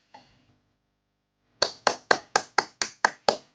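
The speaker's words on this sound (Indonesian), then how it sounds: "Tepuk tangan yang gemuruh." About eight sharp, evenly spaced hand claps ring out close and clear during a live stream, preceded by a brief faint sound and silence.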